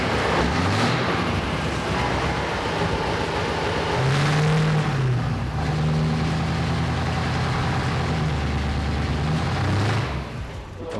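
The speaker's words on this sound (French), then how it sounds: "Un V8 Fiat." A Fiat V8 truck engine of 17 litres runs loud and close on a power dynamometer, holding a heavy droning roar with rising and falling revs under load before easing off near the end.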